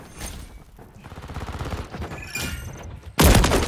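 A single loud shotgun blast from Call of Duty MW3 cracks out near the end, following a few seconds of busy, murmuring game sounds.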